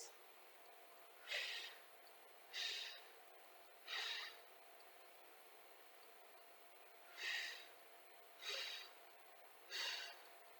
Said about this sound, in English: Now you can hear me breathe with my arms bent.